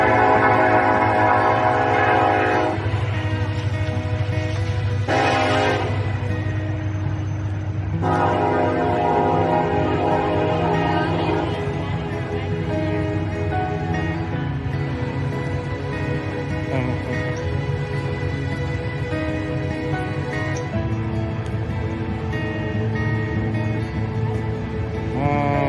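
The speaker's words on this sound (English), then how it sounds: "It's a coal train. It's hauling coal." A loud coal freight train rumbling past nearby, steady roar of wagons on the rails with a long, blaring horn sounding over it.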